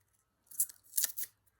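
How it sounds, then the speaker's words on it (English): Sharp scissors snip through craft card, cutting it in half: a few quick crisp close-up cuts in a quiet room, with no speech. "just grab yourself a pair of sharp scissors"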